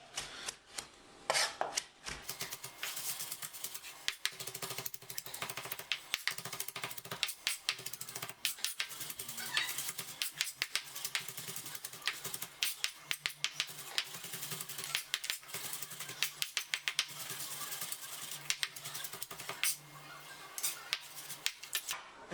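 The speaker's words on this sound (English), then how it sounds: "I'm just going to mince this up very fine." Fat for split pea soup is minced finely with a knife on a cutting board, producing rapid, irregular, crisp chopping taps that continue steadily throughout at close range.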